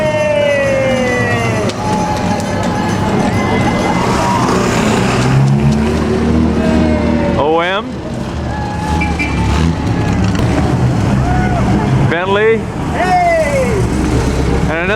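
A vintage Bugatti race car on the 2007 Mille Miglia in the streets of Florence roars past close by, its engine note sweeping in pitch, with a second rasping pass later, over steady crowd and street noise and a talking voice.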